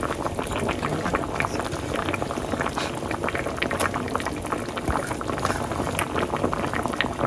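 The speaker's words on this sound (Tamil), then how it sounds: "நம்ம தேங்காய் பால் அரைச்சி ஊற்றியாச்சு." Ground coconut milk goes into a crab curry simmering in a pot, and a steady, close bubbling and gurgling of thick liquid carries on without a break and without any talk.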